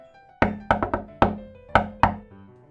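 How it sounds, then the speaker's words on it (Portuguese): Knocking on a door as a sound effect: seven sharp, close knocks in uneven groups, loud against a faint musical background. "Ou alguém batendo na porta"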